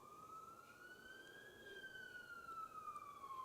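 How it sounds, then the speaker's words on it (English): An emergency vehicle siren passes outside, faint and distant, its single tone slowly rising and then falling again as it goes by. "What, the siren?"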